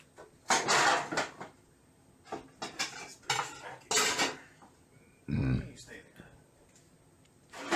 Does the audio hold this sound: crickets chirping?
no